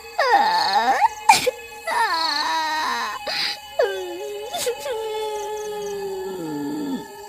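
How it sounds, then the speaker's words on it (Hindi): A drawn-out eerie wailing echoes through a forest at midnight, several long rising and falling moans and cries, loud and close, in a haunted taxi horror story. "आधी रात होने पर जंगल से किसी के रोने की आवाज"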